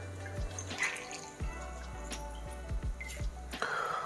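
Soaked gelatin sheets for panna cotta are squeezed and drained, with wet squishing, drips and trickling water close by, followed by a low steady hum.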